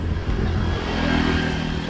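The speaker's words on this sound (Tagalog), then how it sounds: "Bante lang tayo konti kay si JB pag narinig yung boses ng motor." A motorcycle engine runs steadily and close, a loud, continuous low rumble with an even throb across the brief moment, no voices over it.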